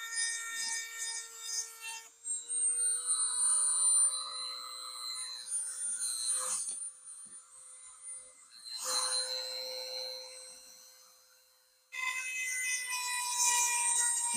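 File sharpener drawn back and forth across chainsaw chain teeth, a close, steady metallic rasping in long strokes with brief pauses between passes.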